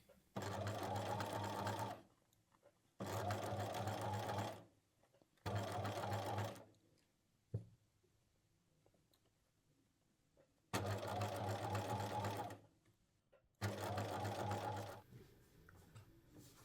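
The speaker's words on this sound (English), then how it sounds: "When sewing, ensure the stitches all go on the left side of the cuts, so you won't leave holes." Sewing machine stitching fabric for a skirt, running in five steady whirring bursts of about one to two seconds each, separated by pauses with faint handling noise, close and fairly quiet.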